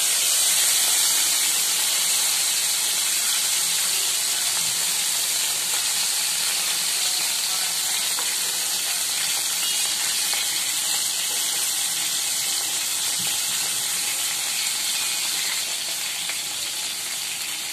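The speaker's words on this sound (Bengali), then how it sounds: "আমি সবগুলো যে মাছের জন্য সবজিগুলো কেটে নিয়েছি সেগুলো ভেজে তুলবো।" Sliced vegetables for a fish dish fry in hot oil, giving a steady, loud broadband sizzle that runs unbroken throughout, with faint stirring underneath and no talking.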